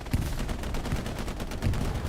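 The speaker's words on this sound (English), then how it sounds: "Meanwhile, you just hear all the machine guns rattling off." Machine guns rattle in a war video game battle with tanks and artillery, a dense, continuous stream of rapid gunfire bursts layered together, loud and close, with no talking.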